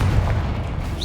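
A Confringo blasting spell goes off in Hogwarts Legacy, a loud, dense, booming blast that fills the whole second with rumbling low-end energy and no clear break.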